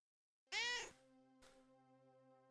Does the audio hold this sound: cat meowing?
yes